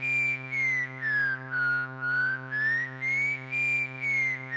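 Synth whistles from VCV Rack filter modules: a steady resonant tone with a pure whistle slowly gliding down then back up, pulsing in a regular rhythm of about two beats per second, loud and alone.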